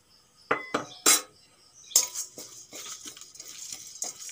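Whole coriander, cumin, black pepper and a bay leaf dry-roast in a dry kadai, heard as a series of sharp metallic clinks and scrapes of a spatula stirring against the pan, irregular and close.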